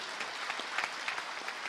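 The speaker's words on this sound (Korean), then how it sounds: "우리 우아 말씀님께 큰 박수 부탁드리겠습니다" A seated crowd at a Rotary membership workshop breaks into applause, a dense sustained patter of many hands with a few sharper claps standing out, brief and alone without talk.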